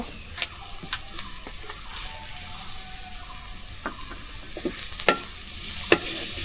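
Prawns frying in oil with onion, garlic, chili and turmeric give a low steady sizzle, broken by a few sharp clicks and scraping stirs, quiet and close, with no talking.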